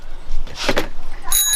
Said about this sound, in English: Got a bell on your bike.